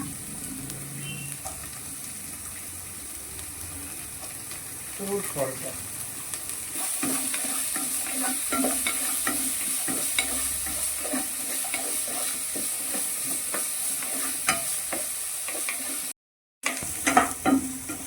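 Peas and carrots sizzle and fry in a hot pan with chilli while being stirred, a steady crackling hiss broken by soft scraping stir strokes throughout, with no voices.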